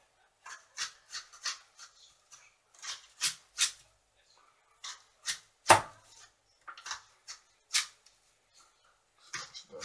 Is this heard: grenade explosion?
no